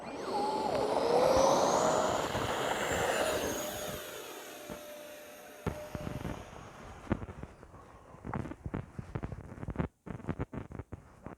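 An E-flite F-15 64mm electric ducted-fan RC jet takes off with a loud rising whine and rushing roar that fades as it moves away, leaving scattered clicks and outdoor noise.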